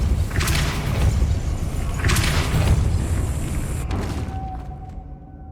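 The Depulso force spell is cast in Hogwarts Legacy, with heavy whooshing thumps repeating amid a dense rumbling bed that fades into near quiet at the end.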